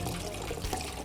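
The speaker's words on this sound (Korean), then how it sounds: "물을 듬뿍 받아가지고 헹구면서 씻으시면 돼요" Hijiki seaweed being rinsed in a generous amount of water in a kitchen: steady sloshing and running water, close and continuous for about a second.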